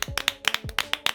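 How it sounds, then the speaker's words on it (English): Several people clapping together in short, uneven bursts, close and fairly quiet, in a brief indoor gathering with no talking. "We're applauding your decision to ruin your life since it made our Chiharu so happy."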